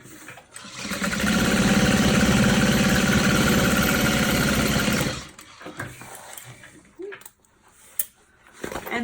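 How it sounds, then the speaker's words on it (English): A sewing machine top stitches a tote bag in one steady, loud, motorized run of about five seconds, then stops, leaving quieter handling noises and rustling. "And then I'm going to top stitch it."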